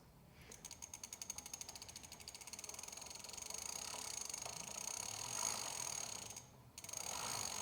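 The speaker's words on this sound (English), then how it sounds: "grab the pedal, line the thread up with the thread of the crank, and then just pedal backwards" Steady rapid ratcheting clicks from an electric cargo bike's pedal being threaded into the crank by pedaling backwards, a close, regular mechanical ticking that runs continuously with a brief pause near the end.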